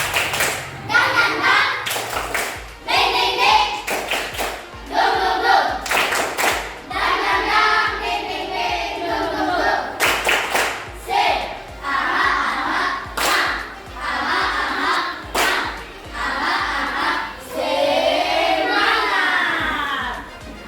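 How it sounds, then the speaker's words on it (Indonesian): A class of schoolchildren performs rhythmic spirit clapping in a classroom, bursts of patterned hand claps and taps with pauses between rounds, mixed with children's voices and a teacher speaking. "Tepuk semangat dulu. Tepuk semangat."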